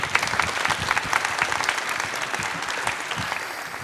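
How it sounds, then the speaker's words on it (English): An auditorium audience at the EuroPython 2022 conference applauds after a talk, a loud, dense, sustained wash of clapping from many hands. "So please give a round of applause now."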